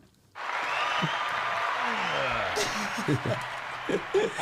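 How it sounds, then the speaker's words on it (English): A live audience at a New Zealand punk trio's show cheers and applauds in a steady roar, with scattered whoops and a few nearby voices and laughs over the crowd noise. "And the crowd goes wild."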